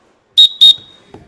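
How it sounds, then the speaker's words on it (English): Two sharp, shrill whistle blasts in quick succession signal the final whistle, loud and close, followed by a faint trailing tone and a brief vocal sound. "And that's the final whistle."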